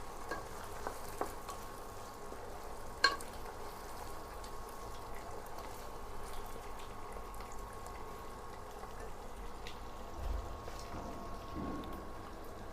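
Vegetables frying in a pan for a vegetable pasta give a soft, steady sizzle throughout, fairly faint, with one brief sharp clink of stirring early on.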